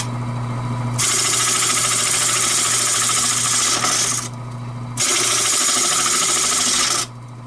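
A lathe turns at its lowest speed of 700 RPM while a hand tool scrapes hard against the spinning work, giving two long, loud rasping passes with a short pause between, over the motor's steady hum.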